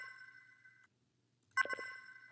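Game audio in Unity plays through a reverb effect added via sends and receives: a tonal chime-like sound rings out, falls silent, then returns with a burst and lingering reverberant tail, faint overall.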